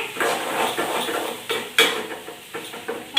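Onions are stirred in a small iron pan that rocks and rattles on the stove, giving irregular metallic clanks and scrapes with a faint sizzle underneath and no talking.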